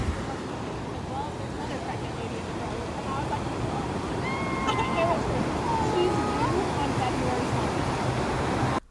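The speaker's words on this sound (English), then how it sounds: "What you can hear now, if you can hear it, it's the sound of the waves, which is the best sound in the world." Ocean waves wash steadily onto an East Coast beach, a broad continuous rush with faint distant voices and calls mixed in.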